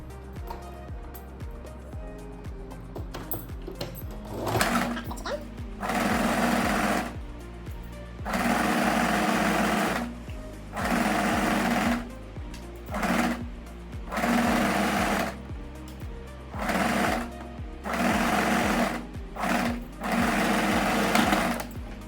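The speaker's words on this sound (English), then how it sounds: "then I'm going to restart the stitch line a bit further along, around 10 centimeters" A sewing machine stitches a vest seam in repeated loud, even bursts of rapid whirring, separated by short pauses and quieter fabric handling, close up.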